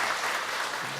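A church congregation breaks into a short burst of steady, full applause during a Sunday worship service, dense and close with no talk over it.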